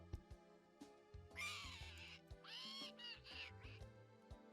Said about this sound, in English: here's the annoying bird with the squeaking